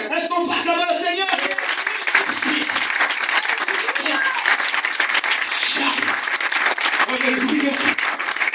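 Congregation at a Sunday church service applauding, a steady wash of clapping that runs throughout, with a voice speaking at the start and voices woven through the applause.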